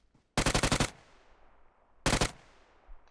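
Bursts of automatic gunfire in the video game PUBG Mobile: a rapid burst of about seven shots, a pause, then a shorter burst of about four, fairly faint with an echoing tail.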